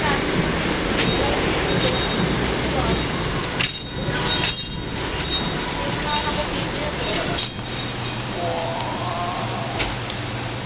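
PNR passenger train running on its final day of service in the Philippines, a loud rumbling ride with rattling carriages and squealing wheels, people talking over the noise.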